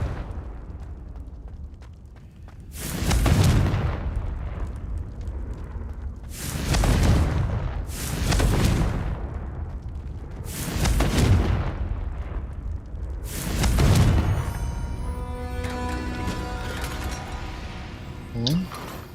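Confringo blasting spells detonating in the game Hogwarts Legacy: five loud booming explosions at irregular intervals, each with a heavy rumbling decay, ending in a ringing, rattling tail.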